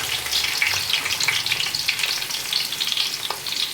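Onion, garlic and ginger fry in hot oil with a loud, close, continuous crackling sizzle, broken by occasional stirring scrapes, and no voices.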